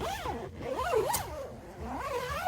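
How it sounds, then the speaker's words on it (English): A zipper is drawn along the fabric of a Guana Equipment roof top tent on a Honda Element, a close, rasping zip in several pulls rising and falling in pitch, heard alone. "These are the zippers where you can zip up."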